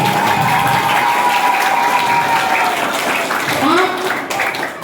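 An audience at an Isra Mi'raj religious gathering applauds for the boys, with sustained dense clapping throughout and a voice talking over it near the end.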